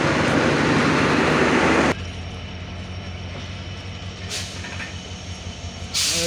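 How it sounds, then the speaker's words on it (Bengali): Rupsha Express pulling out of Saidpur railway station, a loud, broad rumble of the passing train for the first two seconds that drops to a steady, quieter low hum with brief bright hissy bursts. "সৈয়দপুর রেল স্টেশন থেকে বর্তমানে 727 রূপসা কিন্তু চলে গেল"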